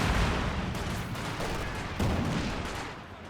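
Dense, continuous rumbling battle noise with repeated explosive thumps, mortar fire in the Company of Heroes 2 strategy game, loud and sustained throughout a 3v3 match with no talk over it.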